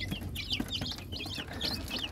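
Rhode Island Red chicks cheeping, a string of high, rapid peeps repeating in short bursts close by, with a soft low hum of the surroundings underneath and no talking.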